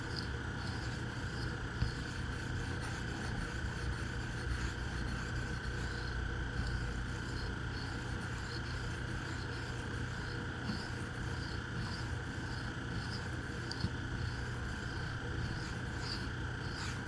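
Freehand sharpening of a Kizer Topsail knife with S45VN steel on an 1100 grit stone: a steady, quiet, continuous rasping scrape of blade strokes across the stone that runs throughout, close up.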